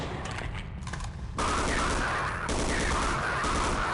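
Rapid SMG bursts fire in Half-Life: CAGED, a brief opening volley followed by a sustained, loud automatic stream from about a second and a half onward, with one short break midway.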